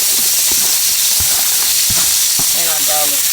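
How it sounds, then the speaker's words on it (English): Onions sautéing in hot oil, a loud steady sizzle with scattered pops and crackles as they are stirred in the pan, sustained throughout with no talking. "Add our onions in, saute these for like 2 to 3 minutes"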